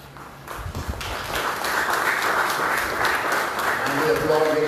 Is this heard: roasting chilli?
no